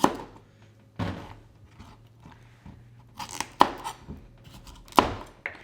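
A knife chops off the hard ends of cauliflower on a cutting board, giving about six crisp, crunchy strikes at irregular intervals, close and loud with no talk.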